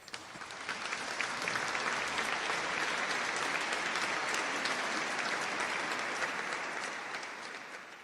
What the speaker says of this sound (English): Do an applause for that one.